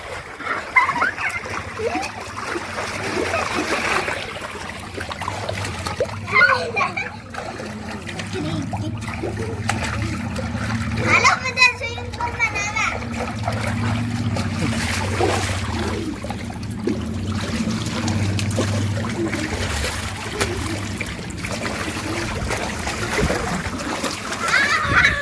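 Children splash and slosh water repeatedly in a rooftop swimming pool, with voices talking and calling over the splashing throughout.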